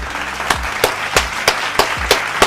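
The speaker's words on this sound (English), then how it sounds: "Clap it up." Scattered claps from a small group at a Dallas Cowboys vs. Eagles game watch party, about eight sharp separate hand claps in a loose irregular rhythm, close and fairly loud, with no talking.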